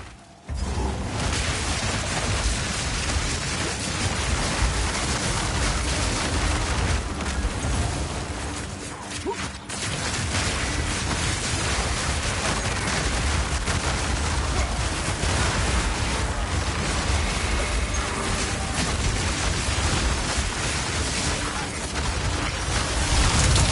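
Dense, continuous explosions and blasting effects from Path of Exile 2 gameplay with a druid on PS5 Pro fill the scene as a loud, unbroken wall of booms and crackles.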